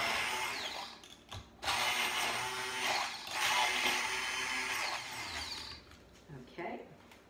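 Immersion blender mixing extra virgin olive oil into a tart filling, a steady buzzing whir that dips briefly and resumes before trailing off, close by, with a voice faintly present.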